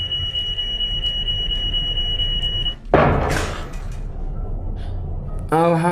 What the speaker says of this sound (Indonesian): Ternyata asap dari perapian memicu alarm menyala